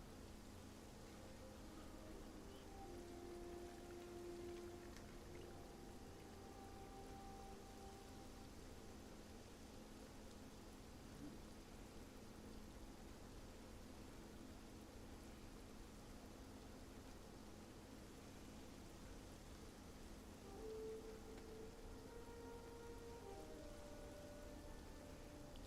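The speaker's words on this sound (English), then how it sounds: "Oh, it's starting to rain." Rain falling in the video game Hytale, a steady soft hiss of drops on surfaces lasting throughout, faint and even with no talking over it.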